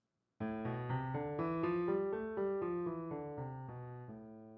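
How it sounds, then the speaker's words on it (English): A piano plays a natural minor scale stepwise, one note after another in an even rhythm, rising and then falling back down, clear and alone. "using the natural minor scale, which sounds like this"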